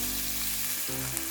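Ground beef with gochujang stir-frying in a pan: a continuous low sizzle with a faint hum underneath and a small clink near the end, no one speaking.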